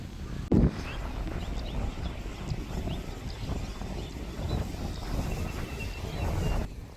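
Wind buffets steadily across an open outdoor space, with a sharp thump near the start and a constant rushing noise throughout.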